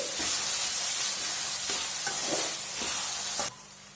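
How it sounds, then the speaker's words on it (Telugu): Ginger garlic paste frying and sizzling in a pan for instant fried rice, a steady hiss with a few soft stirring scrapes, close and loud until the sizzle suddenly drops. "సగం టేబుల్ స్పూన్ అల్లం వెల్లుల్లి పేస్ట్ వేసుకొని పచ్చివాసన పోయేంత వరకు ఒకసారి ఫ్రై చేసుకోండి"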